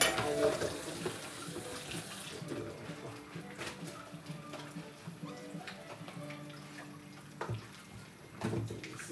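Tap water runs steadily into a kitchen sink during washing while cooking vegetables, with faint clinks of dishes and utensils throughout.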